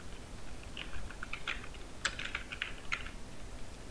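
Someone types text on a computer keyboard, a few faint, scattered key clicks over quiet background hiss.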